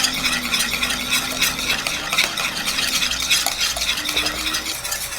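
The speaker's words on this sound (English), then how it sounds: "Stir this up." Thick bolognese meat sauce seasoned with salt, pepper and nutmeg is stirred in a pot, producing close, rhythmic wet scraping and a low bubbling sizzle, with no speech.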